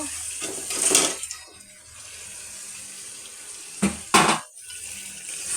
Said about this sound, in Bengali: মশলা কষানো হয়ে গেল এখন আমি এখানে মাছগুলি ঢেলে দিব